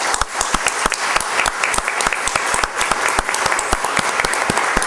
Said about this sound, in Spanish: voy a pedir un aplauso para los miembros del consejo